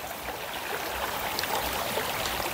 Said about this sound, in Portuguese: E esse barulhinho da água encantador.